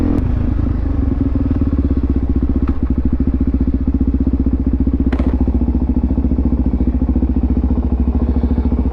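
Supermoto motorcycle engine running while riding, a loud, steady, rapid low thumping exhaust pulse throughout, close to the listener with brief clicks and clatter on top and no speech.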